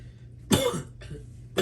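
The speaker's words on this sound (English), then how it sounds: "A lot of coughing here." A person coughs close to the microphone in short, harsh bursts, two distinct coughs with the start of a third, over a quiet background hum.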